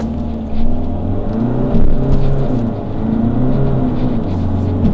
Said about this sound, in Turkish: Biraz patinaj yapacağız ama.